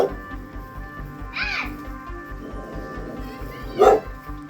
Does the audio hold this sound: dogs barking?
yes